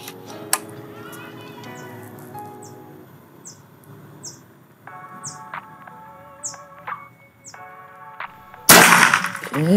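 A single sharp report from a PCP Predator air rifle cracks out near the end, after several seconds of scattered bird chirps and calls in the outdoor background.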